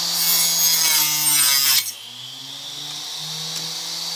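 Handsaw cutting through wood boards: steady rasping strokes, loud and close, that stop near the two-second mark, with a lower, quieter buzzing hum continuing after.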